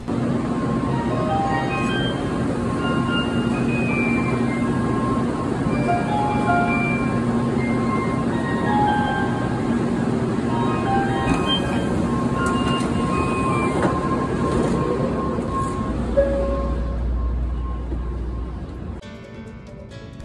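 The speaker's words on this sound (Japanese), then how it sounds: "それでは列車名古屋駅を出発いたします。" A Hikari 632 Shinkansen bound for Tokyo pulls out of Nagoya Station. A steady, loud rolling rumble and hum run throughout, with faint clinks and rattles over it, and there is no talk.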